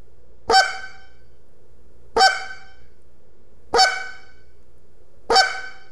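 Four separate honks from a goose call flute, blown with sharper air and an opened baffle hand to raise the pitch, come evenly spaced about one and a half seconds apart; each is short, bright and close against near silence.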